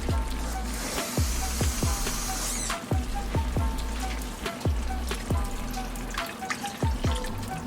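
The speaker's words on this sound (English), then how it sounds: "I'm going to add a little bit more water." Water poured into a cooking pan of brown stew sauce with ketchup, a steady trickling and splashing with repeated dripping taps close by, no talking.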